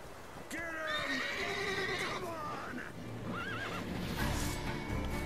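Horse neighing and whinnying with clip-clop hooves in the video game The Witcher 3: Wild Hunt, loud and close over a busy game backdrop, with talking heard around it.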